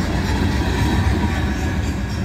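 Empty freight tank cars placarded for phosphoric acid roll past close by in a loud, continuous rumble with a steady rhythmic clatter of wheels on rail joints.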